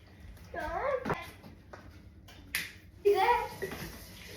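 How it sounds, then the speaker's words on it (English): Glass canning jars are washed in water, with splashing, sloshing and clinking sounds under and between voices, including someone speaking nearby. "what I'm doing now is getting my cans washed"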